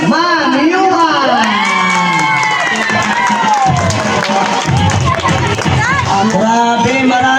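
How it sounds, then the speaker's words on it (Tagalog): A crowd at a child's first birthday party shouts, whoops and cheers loudly and continuously, with excited children's voices and loud, overlapping talk. "marami nang tumalakpak, may sumigaw pa"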